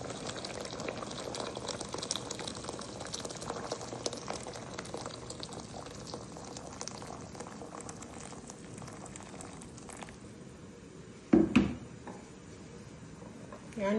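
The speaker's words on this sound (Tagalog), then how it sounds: "Papakuluan ko siya ulit ng half hour." A pot of soup boils on the stove with a continuous bubbling, churning hiss that fades somewhat over time, broken near the end by a brief clatter of handling.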